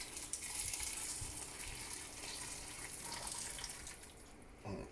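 Pre-boiled water poured into a soup pot of potatoes for Portuguese caldo verde, a steady close splashing gush that runs evenly for several seconds and then breaks off abruptly near the end.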